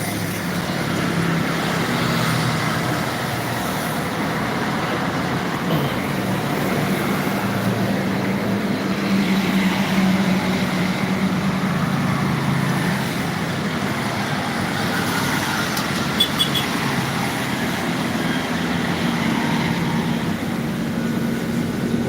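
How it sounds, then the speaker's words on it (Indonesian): Steady, dense road traffic on a busy intercity highway through Palembang, dominated by private city cars and long-haul trucks, a continuous loud rumble of passing engines and tyres with no gaps. "lalinnya ramai lancar. Ini didominasi mobil-mobil pribadi dalam kota ya, sama truk-truk lintas"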